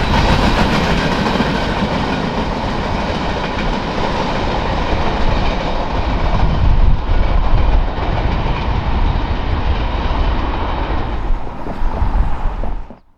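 A CSX freight train rolls past steadily and loudly on the rails, its wheels clattering in a continuous roar that drops off abruptly at the end.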